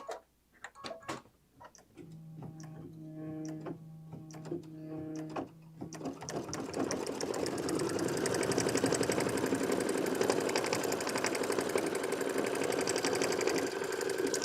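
An embroidery sewing machine sews a double running stitch and then blanket stitches. A few clicks and a brief steady tone come first, then a close, continuous, rapid mechanical whirring and ticking of stitching that builds and holds steady.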